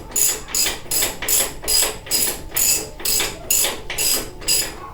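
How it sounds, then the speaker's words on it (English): A ratcheting wrench loosening a nut on a Harley-Davidson Shovelhead engine, giving a loud, close series of about ten evenly spaced clicking strokes in a steady rhythm with no talk. "Pardon me for using an adjustable wrench on this."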